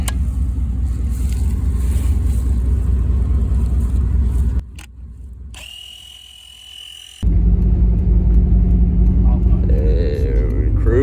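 A 1992 Chevy pickup with throttle body injection rumbles loudly as it drives, its steady low engine drone dropping away briefly before returning at full strength, with no talking.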